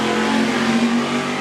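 Drag race cars tearing down the strip at Carolina Dragway, a loud, steady engine roar with a sustained low drone that holds without breaks, close and dominant, no talking over it.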